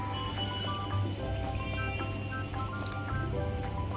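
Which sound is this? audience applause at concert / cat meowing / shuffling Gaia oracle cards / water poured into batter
water poured into batter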